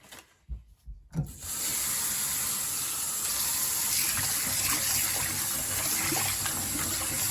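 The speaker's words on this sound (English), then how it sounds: "I'm going to now wash my callaloo here." Callaloo leaves rinsed under running tap water at a kitchen sink: a few soft knocks and splashes, then a steady, full rushing stream that continues evenly and fairly close for several seconds.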